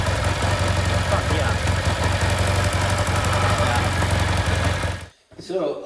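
A 1953 Triumph Thunderbird motorcycle engine idles loud and close with a rough, rapid throbbing beat for about five seconds, then cuts out abruptly, followed by a brief voice.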